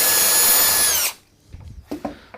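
Power drill boring a hole in wood with a Peanut Mini Jig, a loud steady high whine for about a second before stopping abruptly, followed by a few soft knocks and a brief voice.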